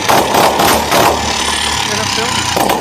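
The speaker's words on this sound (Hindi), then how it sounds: "इंजन नॉइज के लिए कस्टमर ने कमेंट बताई, इंजन नॉइज आ रहा है।" A TVS Jupiter 125 scooter engine idles with an abnormal noise, a steady low hum with uneven knocking pulses, close and loud.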